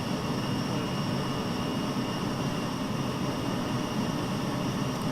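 Lufthansa Airbus A320 taking off from Frankfurt in Microsoft Flight Simulator 2020, a steady broadband engine roar with a faint high whine, constant and unbroken throughout, no voices.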